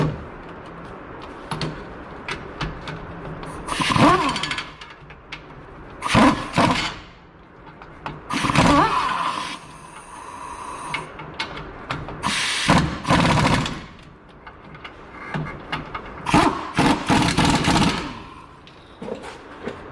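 An air impact wrench tightens the brake caliper bolts on a 2018 Chevrolet Silverado 1500 rear brake, with loud, close bursts of rattling hammering spaced by pauses of hiss and handling noise.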